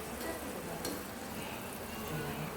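Adhirasam, a Diwali sweet, frying in hot oil as oil is poured over the top, giving a low, steady, soft sizzle with no talk.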